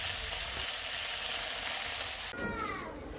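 Chopped tomatoes drop into onions frying in a pan for a Manipuri-style chicken curry, a steady loud sizzle that shifts and sputters sharply as they hit the hot oil.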